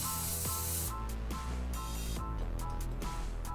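Airbrush spraying paint onto a black shirt, a loud sustained hiss in bursts separated by short pauses, close and alone.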